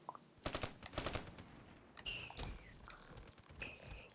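Gorgon fire in the Black Ops 3 multiplayer game: two loud, rapid bursts of automatic gunfire up close, then scattered single shots and whining in-game effects, with no talk.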